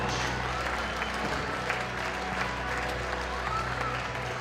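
A gym crowd applauds and cheers at a varsity boys high school basketball game, Winamac at Triton, a steady dense roar of clapping that holds evenly throughout.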